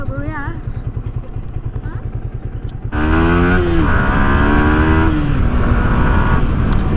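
A motorcycle fitted with a modified exhaust idles with a rapid low thumping, then revs up sharply into a loud, rising and falling roar, with a voice talking over the engine.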